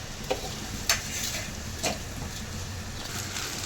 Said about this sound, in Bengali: ঝরঝরা করে ভেজে নিব। চুলার আঁচটা আমি মিডিয়ামেই রেখেছি।